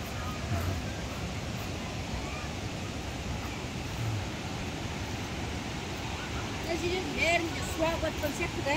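A mountain stream rushing near Talgar, a dense, steady roar of flowing water filling the background while people talk over it.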